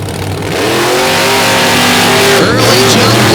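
Monster trucks Black Stallion and Avenger, the latter built by Corey Rummel, race at a show, their big engines revving loudly and rising in pitch as they accelerate, with an announcer talking over the roar.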